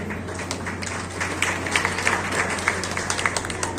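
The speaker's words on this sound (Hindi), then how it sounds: "प्लीज तालियां तो जोर से बजाएं।" An audience at a cultural festival applauds steadily, a dense wash of many hands clapping at moderate distance over a low hum.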